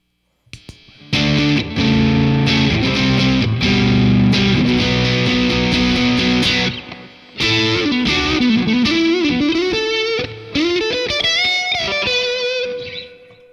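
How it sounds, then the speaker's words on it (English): Electric guitar played through a Drunk Beaver Distortion pedal, a modern take on the Boss DS-1, on its silicone setting: loud, sustained distorted chords ringing out, a brief pause, then bending single-note lines, with no talk. "We're going to start on the silicone setting on the Drunk Beaver Distortion"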